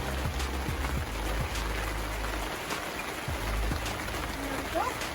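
Water pours onto freshly planted onion sets in a garden bed, a steady splashing trickle running throughout, with a few soft low thumps.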